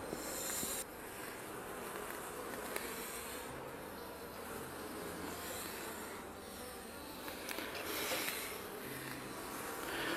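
Winter honey bees buzz in an opened beehive during a January hive check, a dense, continuous close-up drone that stays steady throughout.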